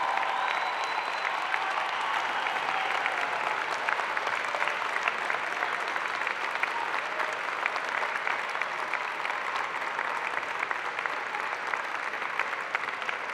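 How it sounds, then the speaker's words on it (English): Sustained, dense applause from a large convocation audience of friends, family and platform members honouring a university graduating class, steady and even throughout with no voices standing out. "I ask your friends, family, and members of the platform to join me in applauding the amazing graduating class of Spring"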